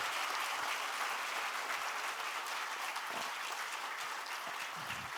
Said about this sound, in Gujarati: જોરદાર તાળીઓથી વધાવીએ.